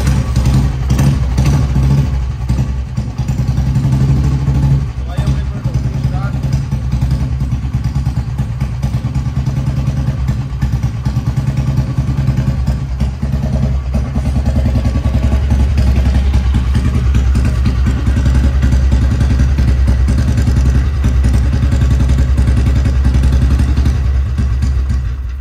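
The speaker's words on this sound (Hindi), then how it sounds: "तो भाई अपनी बुलेट को करने जा रहे हैं हम स्टार्ट" A Royal Enfield Bullet motorcycle fitted with a C-bend exhaust pipe runs loud and close for the whole stretch, its engine thumping steadily with a clattering mechanical tick and no voices over it.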